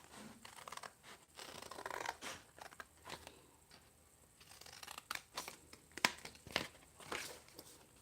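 Scissors trimming shoe material at a beginner's shoemaking bench, making a series of crisp snips and scratchy cuts, with louder sharp clips toward the end, close up and without talk.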